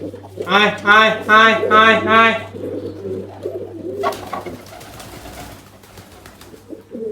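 Pigeons coo in repeated throaty bursts close by as they return to their loft, then the cooing turns softer and more scattered beneath someone talking excitedly and rustling sounds.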